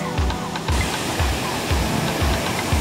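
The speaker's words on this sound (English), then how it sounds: "Dinig na dinig na natin ang kagandahan ng Silvermine ngayon." Silvermine Waterfalls in Hong Kong pour in a steady, loud broadband rush of falling water, with low thumps from wind or handling beneath it.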